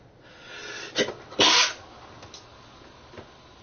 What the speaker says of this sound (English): Yeah, I was sneezing all morning.